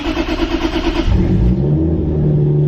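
A Toyota Supra engine with electrical and fuel issues cranks with rapid pulsing, catches, and settles into a loud, throaty rev and idle up close.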